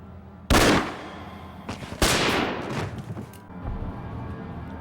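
Sharp, loud gunshot crack from a horror film, followed about a second and a half later by a second blast, each leaving a rumbling decay over a steady background hum.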